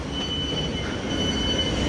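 A train pulls out of London St Pancras International low-level platforms on the 10:02 service to Rainham, its wheels squealing steadily over loud, continuous rumble with a high sustained whine throughout.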